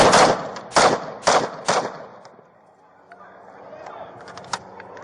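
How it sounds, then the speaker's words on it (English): Four loud, sharp gunshots fired through a window in quick succession at close range, followed by quieter rustling and scattered clicks. "Shots fired."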